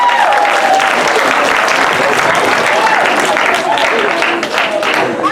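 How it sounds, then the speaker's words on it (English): A crowd at a comedy hypnosis show bursts into loud, sustained applause, a dense, even roar of clapping close by, with a voice faintly heard through it. "Give them a round of applause,"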